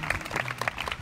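A short burst of audience clapping at a cinema festival interview, dense and close, with some crowd murmur mixed in.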